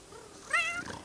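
A cat in the life-simulation game The Sims 3 lets out a single short meow, moderately loud and close, over a quiet game background.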